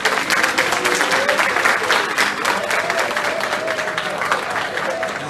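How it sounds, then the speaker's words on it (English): An audience at a high school fall sports banquet breaks into steady, sustained applause that fills the room, honouring a 2022 football conference team. "Please give a hand to your 2022 Stone Mountain Football Conference."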